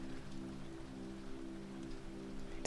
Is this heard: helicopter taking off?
no